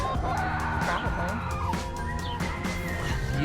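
A large, big-headed rooster clucks and calls repeatedly at close range in a farmhouse chicken coop, its harsh, throaty notes tumbling over one another, with a person talking underneath.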